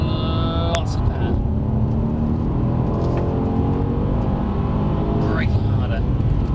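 A Mercedes-AMG car accelerating hard around a cone-marked track at Brooklands, London, its engine a steady, continuous drone throughout, with a driving instructor talking over the top.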